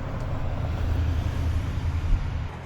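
Steady roadway noise from passing cars and a bus rumbles low and continuous nearby, with a slight swell as a vehicle goes by, no talking.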